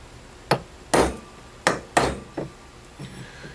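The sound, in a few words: center punching drill holes with a hammer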